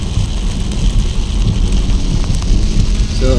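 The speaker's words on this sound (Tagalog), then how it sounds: "Palakas na ng palakas ang ulan." Heavy rain in Quezon province, Bicol, pours in a loud, steady wash with a low rumbling undertone, sounding close and constant throughout the short stretch.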